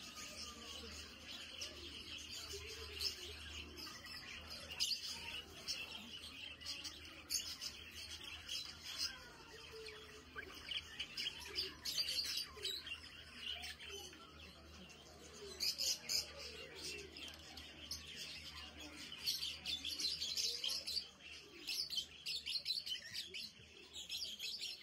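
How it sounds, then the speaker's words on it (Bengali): Many caged birds chirping and tweeting at a bird market in Qatar, a busy, continuous chatter of small calls close by, with faint background noise and little talk. "হচ্ছে বার্ড মার্কেট, পাখির মার্কেট"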